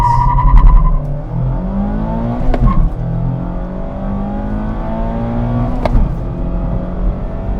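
A 2024 Mazda MX-5 Miata with a 181-horsepower engine and six-speed manual accelerates hard, its engine note climbing through the revs, with a sharp break near the middle and another near the end as it shifts up, loud and close.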